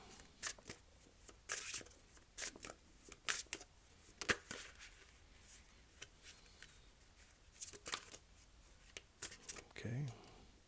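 Tarot cards are shuffled and drawn, making soft, irregular riffling and slapping bursts close by, with a voice briefly heard near the end.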